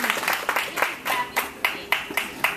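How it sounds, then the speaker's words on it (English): Audience on a cruise ship applauding at the end of a lecture, a burst of crowd clapping that thins into spaced, sharp individual claps, close by, with some chatter underneath. "You clap for you."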